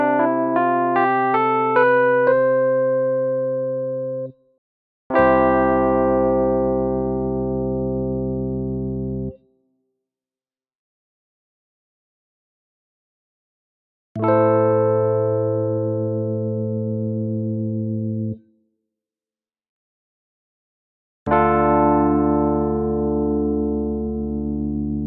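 Sustained synthesized chords played for ear training: a quick arpeggiated run, then three long held chords of about four seconds each separated by silences, clean and bright with no voice.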